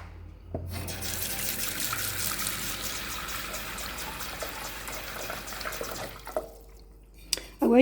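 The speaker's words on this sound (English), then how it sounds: "put a bit of water in my pot" Water runs steadily into a small pot for about six seconds, a continuous splashing pour from a tap at close range, ending with a few light clinks.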